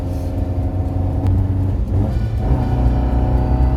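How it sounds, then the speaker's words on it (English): An Alfa Romeo Giulia Super's twin cam engine revs hard, a loud, continuous close-up rumble that swells and climbs in pitch as the car accelerates. "that twin cam really comes alive"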